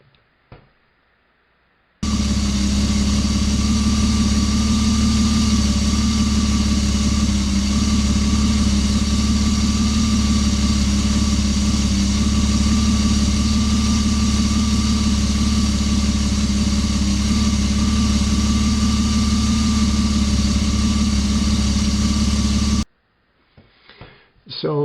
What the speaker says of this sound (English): that beautiful piece of engineering that you just heard was my BMW. It's a 525i Touring, and it has an inline 6 engine.